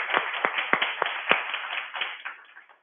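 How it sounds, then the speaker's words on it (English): A small group claps at a community meeting, sharp individual claps standing out over steady applause that gradually fades away, with no talking. "I'd like to give Kim a round of applause for what she's done for us."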